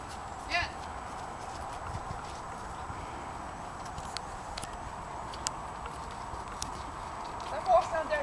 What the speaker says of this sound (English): That horse down there is the son of Galileo.